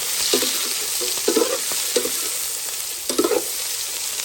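Food is stirred and mixed in a frying pan, with short bursts of scraping and clattering strokes spaced a second or so apart over a constant low sizzle, heard up close with no voices.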